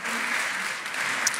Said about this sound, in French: Vous êtes applaudi.